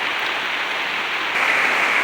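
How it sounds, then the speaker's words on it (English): Heavy rain falls outdoors in Newton Falls, Ohio, during a repair on a 2003 Silverado 5.3 LS, a dense, steady hiss that grows slightly louder toward the end, with no voices. "It's raining its butt off out here"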